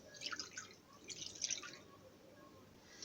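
Milk poured from a glass into a mixing bowl already holding two eggs, making a faint, brief trickling and dripping while batter for a stale-bread cake is prepared.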